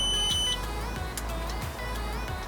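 A Razor E300 electric scooter fitted with Xiaomi M365 parts gives loud, steady high-pitched electronic beeping over a constant low hum, close by and uninterrupted for the whole stretch.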